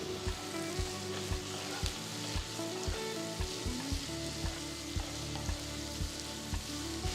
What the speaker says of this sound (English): after sauteing the onions for about 3 minutes